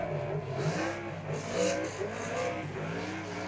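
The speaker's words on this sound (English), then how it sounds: "You can hear him feathering the throttle through turns 1 and 2." A superstock race car circles an oval track in Wellington, its engine note rising and easing as the driver feathers the throttle through the turns. The sound is moderately distant and comes through faint crowd ambience.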